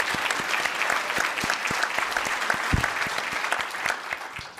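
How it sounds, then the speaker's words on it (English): A room of people at a civic forum gives a brief round of applause, dense clapping with distinct sharp claps close by, steady in volume throughout. "give him a round of applause"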